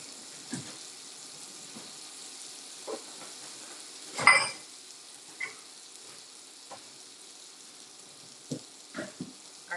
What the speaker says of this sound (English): So I'm just letting it sizzle there on one side.